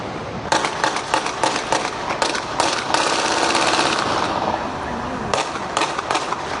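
Rapid bursts of gunfire crackle in dense, overlapping volleys, loud and sustained with short gaps, like automatic weapons firing nearby, in an area near the airport in San Juan, Puerto Rico.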